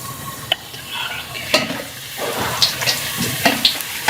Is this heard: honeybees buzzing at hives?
no